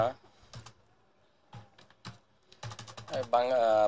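Keys on a computer keyboard are typed in short irregular bursts with pauses between them, close and clear, while a voice speaks in between and over the clicks.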